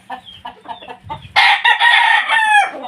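Gamecock roosters crow loudly and close by, one long crow rising over softer clucking and chatter from the birds before it.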